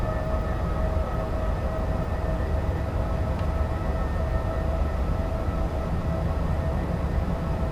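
A DB BR 101 electric locomotive runs between Bremen and Oldenburg in a train simulator game, giving a steady, continuous hum and whine with constant rolling rumble and no break.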